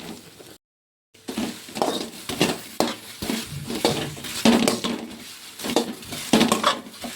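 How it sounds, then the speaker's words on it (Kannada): Okra dry-roasting in a pan over a low flame with no oil, heard as steady scraping and clinking of a utensil stirring against the pan, with a brief silent gap near the start and no talking. "ಲೋ ಫ್ಲೇಮಲ್ಲಿ ಹುರ್ಕೊತಾ ಇದ್ದೀನಿ ನಾನು ಬೆಂಡೆಕಾಯಿ."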